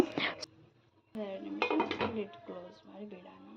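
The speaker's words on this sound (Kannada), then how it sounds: "ಸ್ವಲ್ಪ ಹೊತ್ತು ಇದನ್ನು ಲಿಡ್ ಕ್ಲೋಸ್ ಮಾಡಿ ಬಿಡೋಣ" Metal lid set onto a cooking pot of chicken gravy in a home kitchen, a short clatter and clink at the start, then someone talking.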